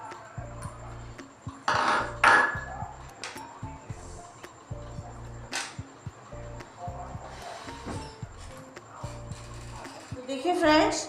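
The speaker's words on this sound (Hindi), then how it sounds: "ये कबाब चीनी है, तकरीबन 10 से 20 है ये भी इसमें मैं कूट के डालूँगी" Kabab chini (cubeb pepper) being pounded to crush it, heard as repeated irregular knocks and thuds, with someone speaking over them for much of the time.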